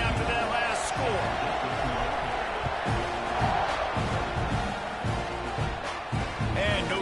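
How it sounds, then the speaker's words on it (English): A stadium crowd buzzes after a score in a College Football 26 video game featuring Texas A&M, a dense continuous roar and murmur with scattered thumps, and a voice talks over it. "this crowd is buzzing after that last score"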